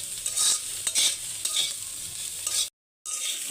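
Papaya and shrimp stirred and frying in a pan with black cumin and cumin, a steady close sizzle broken by scraping stirs, then a brief silence before the frying resumes.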